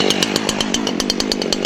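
Chainsaw running right after starting on the first try, a loud close two-stroke engine snarl with a fast, even pulsing rhythm throughout.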